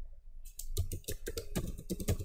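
Password being typed on a computer keyboard: a quick, close run of crisp key clicks with uneven rhythm, alone with no voice.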